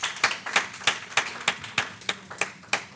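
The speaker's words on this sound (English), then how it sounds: "So let's give them a round of applause, too." A small group gives a brief round of applause at a meeting, about ten distinct claps in a steady rhythm, fairly near and moderately loud, with no speech over it.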